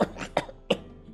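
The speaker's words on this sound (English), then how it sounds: "You seem to be coughing up some, blood?" Three short, raspy coughs in quick succession from a video game character in The Great Ace Attorney Chronicles, close and fairly quiet, with no talking.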